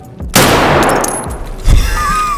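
A gunshot in Escape from Tarkov: a sharp, loud blast with a long decaying tail, followed about a second later by a second, lower shot or impact, with faint game sounds in between.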